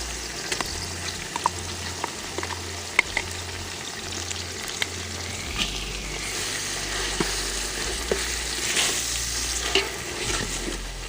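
Ground masala paste sautéing in a pan for chicken dum biryani, a continuous dense sizzle with light stirring scrapes and small pops, steady and close, no talk.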